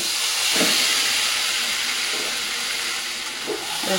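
Marinated chicken hitting a pan of fried onion and chili, a loud steady hiss of sizzling with a few soft stirring bumps, close by and without talk.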